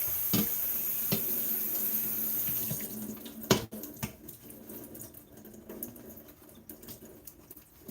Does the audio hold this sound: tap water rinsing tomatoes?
yes